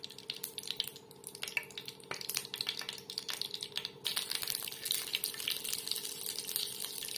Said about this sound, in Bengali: গোটা কালো জিরে দেবো আমি ফোড়নে।